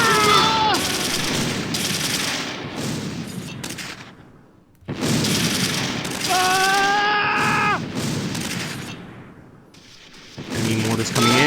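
Gunfire and battle effects from the World War II strategy game Close Combat 3: The Russian Front, with repeated shots and bursts, mortars landing and firing outgoing, loud and dense throughout, with a brief dip near the middle.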